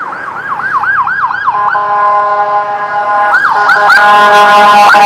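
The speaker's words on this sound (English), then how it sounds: "And that's your ambulance." An ambulance siren wails up and down on a street near a train station in Hua Hin, Thailand, loud and close, with a quick repeating yelp, a steady tone, then the yelp again over traffic noise.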